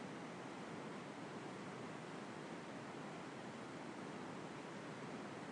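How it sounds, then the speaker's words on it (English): River water rushes over rocks of varied shapes and sizes in a steady, even roar of broadband flow, continuous and unchanging without any voices. "as the water flows over rocks of different shapes and sizes"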